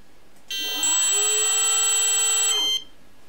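A brushless RC motor on a 3D-printed thrust stand, driven by an ESC under Pixhawk control, spins up abruptly with a high whine, holds a steady pitch for about two seconds, then cuts off sharply.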